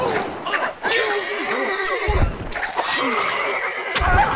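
Horse neighing in the video game Stronghold Crusader HD: two loud, shrill whinnies with snorting breaths, close and clear, mixed with game voice lines.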